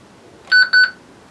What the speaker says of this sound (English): You get a double beep when you let go.